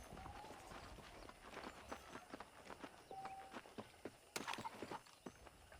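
Steady clip-clop of horse hooves at a trotting pace in the video game Red Dead Redemption on PC, moderately close, with faint background ambience and an occasional sharper knock.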